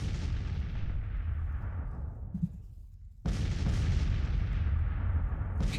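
Artillery fire in the Civil War strategy game Grand Tactician, two heavy booming cannon blasts with long rumbling decay, the second striking sharply after a short lull.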